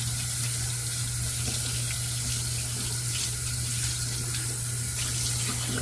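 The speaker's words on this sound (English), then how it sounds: "Let's get the soap rinsed off." Tap water runs steadily into a sink while soap is rinsed off a loaded shaving brush, a constant close splashing hiss with no talk.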